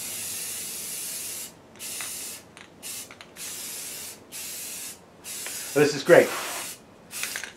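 Spray paint can hisses in repeated short and long bursts, close and fairly loud, with brief pauses and a rattle between them, while someone speaks briefly.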